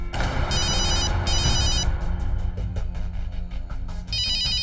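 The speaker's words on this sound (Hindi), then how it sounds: "अरे ये तो अस्पताल से फोन आ रहा है" A telephone rings in repeated bursts of bright trilling bell tones, loud and close, with short gaps between rings.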